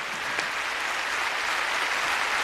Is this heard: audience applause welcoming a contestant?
yes